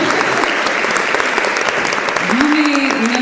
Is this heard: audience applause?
yes